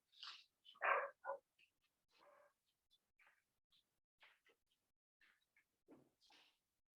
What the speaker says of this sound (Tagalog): yung aking aso nagwawala